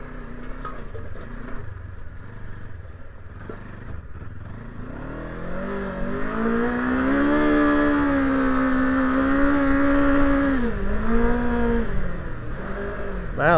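A Kawasaki KLE 500 motorcycle ridden off-road through sand, its engine droning and revving up steadily as it pulls hard, loud and close throughout.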